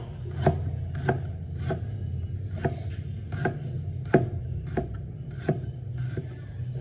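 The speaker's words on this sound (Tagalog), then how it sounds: "Gayatin lang natin ng maninipis yung luya." Thin slices of ginger cut with a knife on a board, a near, steady series of about ten crisp chopping taps spaced roughly half a second apart over low kitchen background noise.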